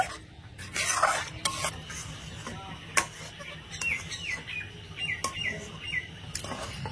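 A spoon stirs semolina dough with salt in a pan over medium-low heat, with repeated scraping strokes and soft sizzling, and birds chirp faintly in the background.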